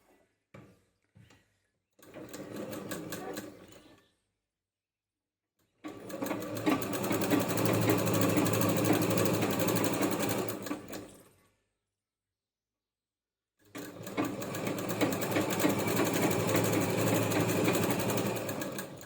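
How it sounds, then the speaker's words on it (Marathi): A sewing machine stitches a strip of fabric in bursts, with a few brief taps first, then two long, loud runs of rapid mechanical chatter separated by silence. "इथं 1 इंचचं अंतर सोडून इथून टीप मारायला चालू करायची आहे"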